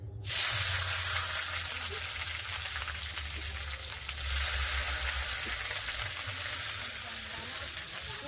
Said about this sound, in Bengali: তেল গরম হয়ে গেছে আবার তেজপাতা দিয়ে দিচ্ছি দিয়ে দিচ্ছি আবার পেঁয়াজ